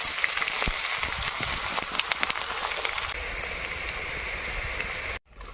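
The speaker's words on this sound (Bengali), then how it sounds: "তেল গরম হয়ে গিয়েছে ফোড়নে দেবো প্রথমে গোটা গরম মশলা পেঁয়াজ" Whole garam masala and onion hit hot oil in a pan, giving a loud, dense, rain-like sizzle with crackling pops that runs steadily for several seconds before cutting off abruptly near the end.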